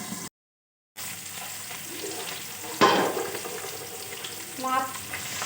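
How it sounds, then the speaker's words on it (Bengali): Fish fry in hot oil, giving a continuous low sizzle with a brief dead-silent gap near the start. A sudden loud spattering pop comes midway, followed later by another swell of bubbling crackle. "মাছ ভাজাগুলো দেখুন"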